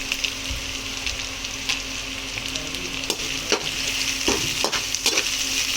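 Crushed garlic and dried red chillies fry in hot oil for a snack mix, a loud continuous sizzle close by with occasional spoon scrapes and clinks against the pan, no voices.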